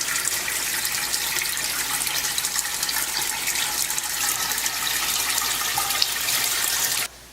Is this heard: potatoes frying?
no